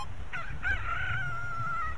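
A cucco chicken in Zelda: Ocarina of Time Master Quest on GameCube gives a short squawking cluck followed by a drawn-out high crowing call, alone over a low steady game background hum.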